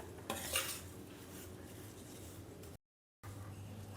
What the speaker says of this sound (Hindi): अब इसमें हम डालेंगे शुगर। इसको हम अच्छी तरह से इसमें मिक्स कर देंगे।